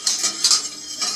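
A spoon stirs a mixture in a bowl, giving a brief run of close scraping and clinking strokes in quick succession.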